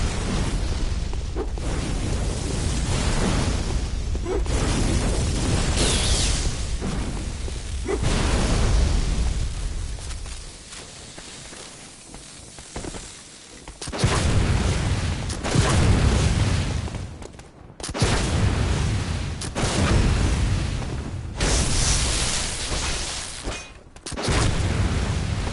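A cannon fires again and again in the dark gothic action game Bloodborne, each heavy boom loud and close. The blasts land in bursts with brief gaps between them, over constant combat rumble and no talking.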